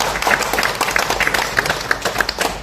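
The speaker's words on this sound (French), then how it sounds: "par Dominique Guénin, qu'on peut applaudir et qu'on remercie d'être avec nous." Steady, dense applause from an audience, many hands clapping together at a lively, even pace throughout.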